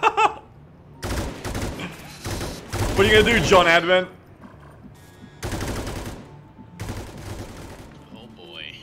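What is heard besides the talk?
gunfire in the video game XCOM 2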